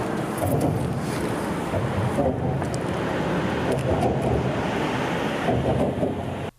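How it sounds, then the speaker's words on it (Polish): Cars crossing the expansion joints of the overpass at Byczyna make a loud, steady close roar of traffic with a few faint knocks that barely stand out. "Cały czas w ciągu dnia, jak i w nocy, słychać stukanie dylatacji."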